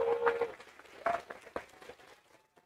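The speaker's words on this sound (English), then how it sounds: "I know you just finished clapping" Audience applause at an observatory public talk event, a brief scattering of claps tapering off quickly into quiet.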